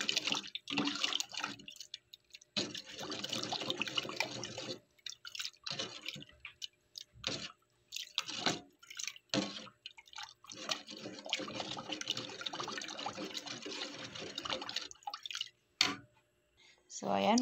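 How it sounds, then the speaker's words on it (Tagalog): Water is poured into a pot of sautéed mung beans, giving a steady splashing trickle broken by short pauses, with someone talking quietly between pours. "Ayan, tubigan na natin."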